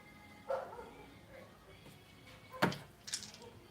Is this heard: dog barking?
yes